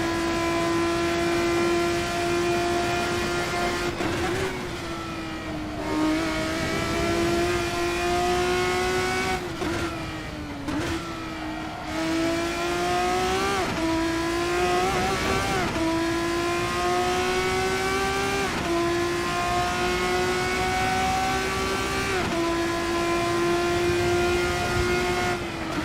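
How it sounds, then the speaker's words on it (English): Race car engines rev and shift continuously in Assetto Corsa, with a dominant rising and falling engine tone over about 26 seconds and tyre squeal mixed in as the car slides. No one speaks. "I turn the tyre squeal up so I can hear if we're sliding."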